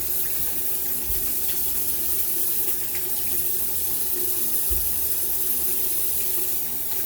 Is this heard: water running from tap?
yes